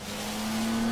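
Animated race car on a beach training track, wheels spinning on sand with a steady rising engine whine and a sustained droning tone, close and continuous for under a second.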